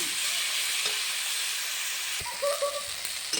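Potato and eggplant frying in a pan with turmeric and salt, a steady close hiss of sizzling oil with a few soft clinks near the end.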